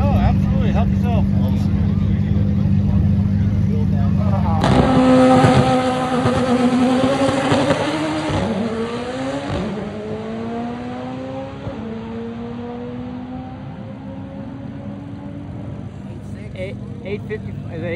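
GTR and Integra race cars at a drag racing event, a steady engine drone that rises sharply into a loud high-revving launch and fades as the cars pull away, heard from a distance under crowd noise and talking.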